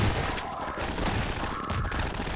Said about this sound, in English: Gonna need the mighty shotgun.